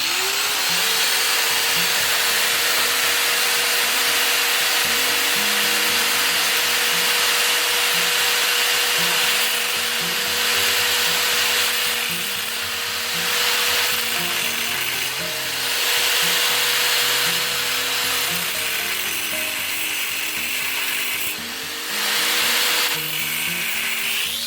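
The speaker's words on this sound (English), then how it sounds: "I was able to cut those tricky angles 75 degrees at the bottom of the uprights on the first try" A saw cutting 75-degree angles at the bottoms of fold-down ladder rack uprights: a long, steady, loud cutting whine with a rhythmic pulse, shifting pitch slightly as the blade works through the material.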